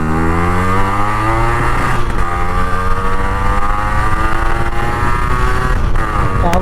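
A Yamaha RX135 two-stroke motorcycle engine roars loud and close while being ridden, its pitch climbing through revs with brief drops at gear changes.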